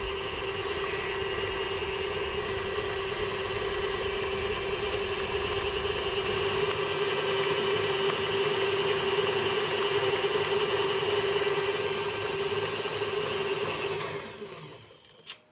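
A kitchen stand mixer's motor hums steadily and loudly while molasses goes into molasses cookie dough, then winds down and stops near the end.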